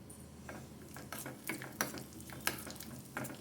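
Thin coconut pieces frying in a pan over a low flame, with a steady soft sizzle broken by a few sharp stirring clinks and scrapes of a spoon against the pan.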